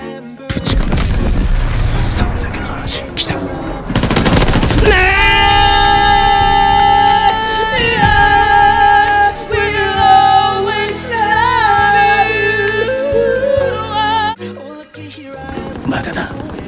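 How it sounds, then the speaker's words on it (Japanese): Loud, dense World War II battle gunfire from the Call of Duty WWII video game: heavy booming shots and blasts over a sustained layer of game music and effects, with bursts near the start and end. "さらに今の銃声を聞いて"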